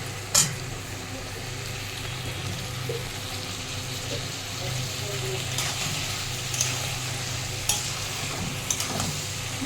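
A cucumber and shrimp stir-fry sizzles steadily in the pan while being stirred, a continuous close hiss broken by occasional sharp clicks of the utensil against the pan.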